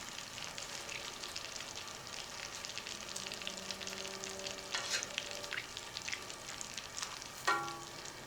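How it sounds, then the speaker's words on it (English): Steaks cooking in butter on a griddle give a steady soft sizzle and bubble, with faint utensil taps and a brief clink near the end. "These, since they're in butter and basically being boiled, you want to flip them more often."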